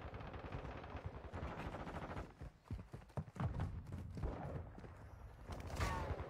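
Rapid bursts of gunfire crackle in a Call of Duty match, a dense volley of shots followed by a few heavier blasts, mid-distance and fairly loud with no talking.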